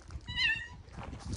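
A cat gives a single clear meow, fairly close and moderately loud, outdoors where a family is grilling, with soft background rumble and no speech.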